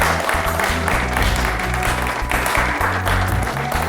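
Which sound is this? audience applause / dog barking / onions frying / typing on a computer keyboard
audience applause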